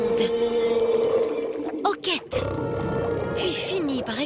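A huge whale's deep, growling rumble as a storybook sound effect in a children's bedtime story, with long sustained groaning tones, a brief break, then more moaning rumble with rising and falling pitch.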